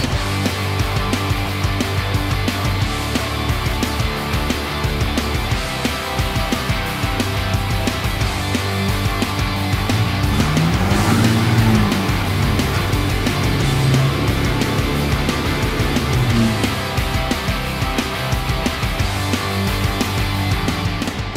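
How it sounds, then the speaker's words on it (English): A Carbon 12k winch pulls a vehicle off-road, its motor whining steadily under heavy broadband noise, with the pitch rising and falling through the middle of the pull. "don't forget to clear the area and we're ready to winch"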